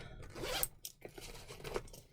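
A bag's zip closure is drawn open or shut in a fast rasping run, close and fairly loud, with a few short bursts and pauses and no talking.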